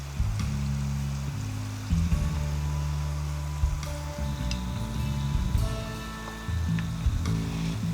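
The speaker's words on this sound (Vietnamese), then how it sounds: "mình hạ lửa xuống cho bánh vào chiên" Dumpling pastries (bánh gối, folded crispy-shell turnovers) sizzle steadily in hot oil on low heat, a continuous close crackling hiss with shifting bubbling and occasional stirring sounds, no talking.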